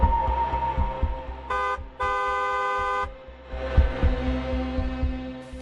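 A car horn honks twice, a short blast then a longer sustained one, loud over a steady low throbbing rumble.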